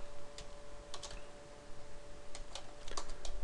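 Typing on a computer keyboard during a Java programming lesson, with a few scattered light key clicks in short bursts over a quiet room hum, close and fairly soft.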